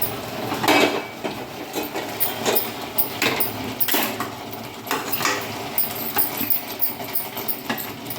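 Sugar syrup trickles slowly into a water chestnut flour barfi mixture in a pan on a low flame while a spoon stirs it, giving a steady run of close scraping and clattering knocks against the metal.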